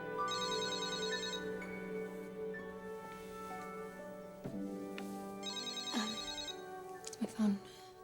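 A phone rings in a soap-opera scene, a repeating electronic ringtone that sounds in two bursts close by and fairly loud over a soft musical background.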